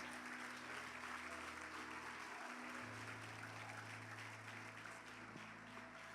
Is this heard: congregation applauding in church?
yes